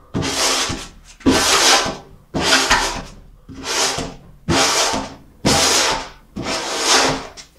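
Hand scraper dragged across painted window glass to remove paint, seven loud close rasping strokes in an even rhythm with short pauses between, no talk.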